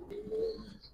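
A Giribaz pigeon, a red-tailed Indian bird, coos in one short, low, soft phrase close by, with faint background hum and no talking.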